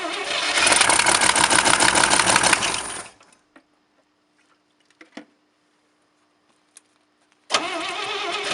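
A 1967 International 1200 truck engine fires up and runs loudly for about three seconds before cutting out, followed by near silence with a faint hum and small clicks, then the engine roars back to life at the end.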